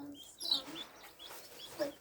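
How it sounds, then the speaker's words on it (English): Leghorn hens cluck in a backyard homestead flock, with short, scattered clucks and chirps at close range and voices talking quietly nearby. "the only difference between the brown leghorn and the white leghorn is what the chicken itself looks like"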